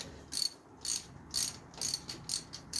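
A ratchet works loose a spark plug on a Chevrolet LT1 engine, producing six or so quick bursts of sharp metallic clicking in a regular back-and-forth rhythm, close and clear.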